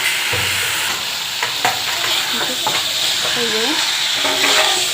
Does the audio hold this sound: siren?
no